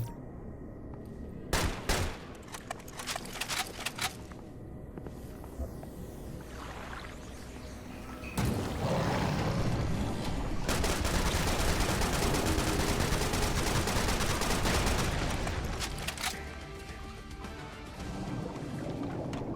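Dual-wielded guns firing in Serious Sam 4, scattered sharp shots early, then a long loud sustained burst of rapid fire that fades near the end.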